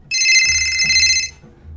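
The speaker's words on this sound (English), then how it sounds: "phone's ringing" Phone ringtone trilling loud and close in one sustained electronic burst of about a second, stopping abruptly before low background sound continues.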